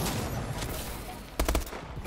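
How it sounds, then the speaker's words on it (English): Gunfire in a first-person shooter match: a steady wash of distant background shooting, then a short, loud cluster of three or four rapid close shots near the end. "I just shot for fun."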